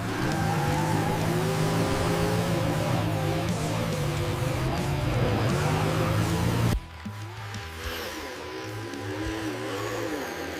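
RC cars tearing away at a race start: a loud whining motor drone with shifting pitch, briefly dropping and changing character partway through as the cars pull away, continuing with engine whir and no talking.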